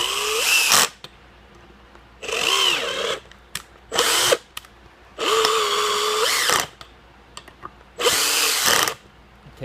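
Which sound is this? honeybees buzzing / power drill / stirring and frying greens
power drill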